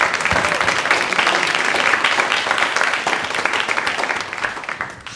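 An audience at a theater event for new plays from Taiwan applauds steadily with dense, continuous clapping that holds loud throughout and starts to thin near the end.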